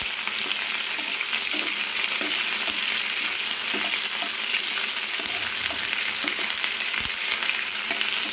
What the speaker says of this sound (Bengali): সুন্দর করে কারি পাতাটা হালকা করে ফ্রাই করে নেব যাতে পুড়ে না যায়।